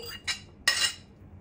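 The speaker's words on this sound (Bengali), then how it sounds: "এখন আমি এটাকে খাওয়ার জন্য খুব সুন্দর করে এখানে একটা পেয়ালায় ঢেলে নিচ্ছি" Java plum mash (jam bhorta) being spooned from a pan into a serving bowl: two short scraping clinks of utensil on dish, close and moderately quiet, with no talking.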